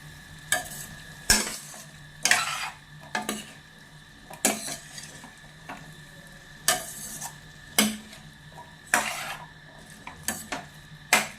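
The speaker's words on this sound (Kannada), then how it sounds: "ಚಂದ ಮಿಕ್ಸ್ ಮಾಡಬೇಕು ಎಲ್ಲ ಬಟಾಟೆಗೆ ನಮ್ಮ ಮೆಣಸಿನ ಪೇಸ್ಟ್ ಉಂಟು" Potatoes mixed with chili paste are stirred in a pan over a soft background sizzle, with a spoon scraping the pan in regular strokes about once a second, close and clear.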